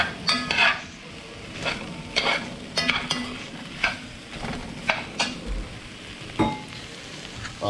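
Garlic sautéing in a pot just before deglazing for red beans and rice, a steady low sizzle broken by repeated scraping stirs of a utensil against the pot, close and moderately loud with no talking.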